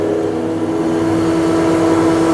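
A crane's engine holds a loud, steady high rev with a constant droning hum and harmonic whine, close and unbroken, with no voices over it.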